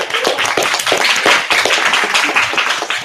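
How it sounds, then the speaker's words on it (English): Small audience applause at an Ada Lovelace Day women-in-tech event, a short burst of uneven, fairly close hand clapping lasting about three seconds. "Round of applause, please."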